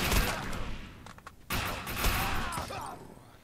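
Defiance sci-fi shooter game combat, dense rapid gunfire and bursts filling the whole stretch, with a sharp louder blast midway.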